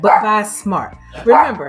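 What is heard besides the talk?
dog barking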